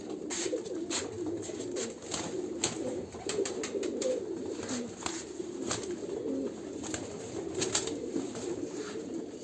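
Domestic pigeons coo softly in a loft, a low murmuring run of calls repeating throughout over steady background noise, with no one talking.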